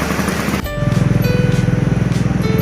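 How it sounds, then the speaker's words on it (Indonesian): A Vespa scooter on a forest path at Kapalo Banda Taram cuts in abruptly with a loud, close, steadily throbbing engine putter that holds its rhythm to the end, with no talking. "ada motor juga bisa lewat, ada Vespa."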